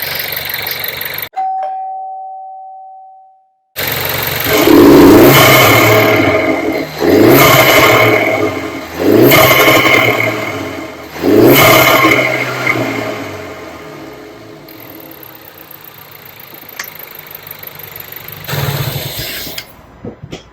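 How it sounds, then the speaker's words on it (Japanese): Close-up intake sound of an Audi A3 sedan fitted with an R-EP aftermarket air filter and aftermarket exhaust, after a short silence a loud idle broken by four or five sharp rev blips, then easing back to idle. "交換後の吸気音です。"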